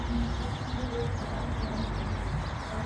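A large flock of birds gathers in neighbourhood trees at dusk, with a dense, continuous wash of overlapping calls and chirps, coos among them, filling the air at moderate loudness with no gaps.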